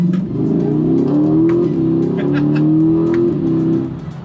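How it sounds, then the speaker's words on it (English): A brand-new C8 Corvette Z51 on wet, dirty roads revs up toward its break-in rev limiter, its engine note climbing and holding in a loud, close, sustained drone before dropping off at the end. "So that wasn't full revs. That was just right up to the limiter that the braking period has."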